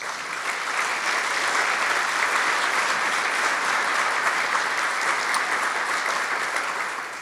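An audience applauds at a 2019 community benefits plan announcement, a thick, even wash of clapping from many hands that fills the whole stretch without a break, with no speech over it.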